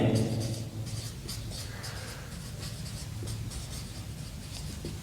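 Chalk or marker scratching across a board in a trigonometry lecture, a steady run of short strokes and taps heard close over room murmur.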